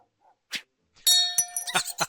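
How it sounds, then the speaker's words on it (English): Bell dropped by a squirrel in the video game Doomsday Valley, a bright metallic clang ringing out with a sustained tone, followed by a few lighter clinks and knocks, preceded by a soft tap. "The squirrel dropped the bell just as intended."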